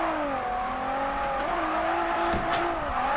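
A drift car in an open-world drifting game holds fourth gear with a steady, loud engine drone, while tire squeal rises and falls through the slide and no one speaks.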